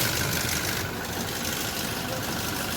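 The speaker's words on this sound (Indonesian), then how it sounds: "Bunyi mesinnya kasar." Toyota 2GD diesel engine running rough, a steady, close, broadband rumbling idle with no breaks, and a voice briefly audible over it.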